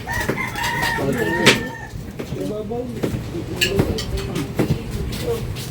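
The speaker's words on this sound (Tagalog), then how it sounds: "Manok." Chickens cluck repeatedly close by while a rooster crows, with people talking in the background throughout.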